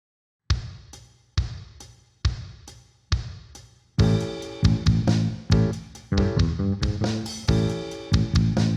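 Finger-funk bass guitar groove: four evenly spaced plucked notes, then a busier syncopated run with sharp slap accents filling the phrase, loud and close with no talking.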